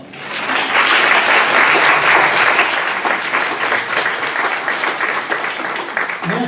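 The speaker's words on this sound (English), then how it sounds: "Round of applause." Sustained applause from a seated audience at a synagogue book launch event, loud and dense from the start, holding steady before thinning slightly toward the end.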